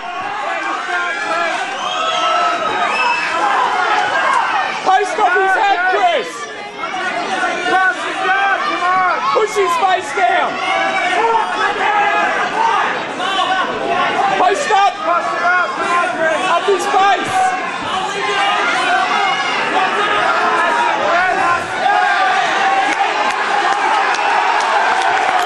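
A crowd at a small-venue fight event shouts and cheers without a break, a loud, dense mix of many voices yelling over one another for the whole stretch.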